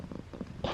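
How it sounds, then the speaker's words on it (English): Molly, a small pet cat, purring close by in a soft, steady rumble, with a brief louder rustle at the end. "Look at this little cat getting in here to cuddle."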